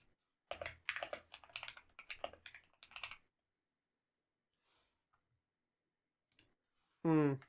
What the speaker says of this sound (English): I should probably stop typing.